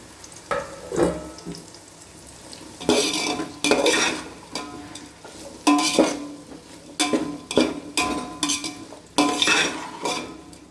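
Potatoes stirred in a frying pan for vegetable biryani, with repeated scraping strokes of a spatula against the pan over a soft sizzle, in irregular bursts.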